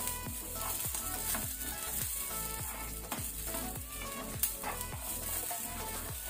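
Curry leaves sizzle in hot oil in a pan while frying for a Mangalorean prawn curry, a steady dense crackle with repeated bubbling pops running throughout, close and fairly loud with no talking.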